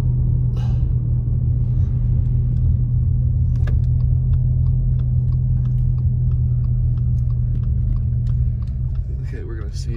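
Car rolling along a rain-soaked mountain road near Snow Summit in Big Bear, a steady close cabin rumble and road drone with faint ticks and rattles, and talk heard at times.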